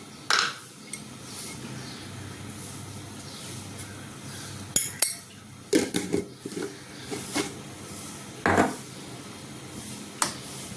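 Salt being stirred into moong dal dosa batter in a bowl, a series of irregular spoon clinks and scrapes against the vessel with soft wet mixing between them.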